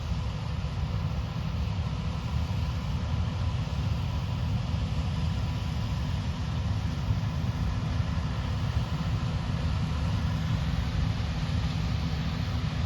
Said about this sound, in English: now the combine's just in a complete dust cloud